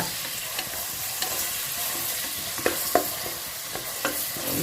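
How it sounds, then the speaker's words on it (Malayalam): Close, steady sizzle of ingredients sautéing in ghee for ghee rice, with occasional light spatula clicks and scrapes. "ഞാനിതാ നെയ്യാണ് ഇട്ടത്, നല്ല നെയ്യാണ് ഇട്ടത്. നമുക്കൊന്ന് നല്ലോണം വഴറ്റിയെടുക്കുക."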